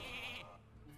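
Sheep bleating in the Hearthstone card game after a polymorph spell turns a minion into a sheep; one close, clear bleat fills the first part of the second before fading into quieter game background.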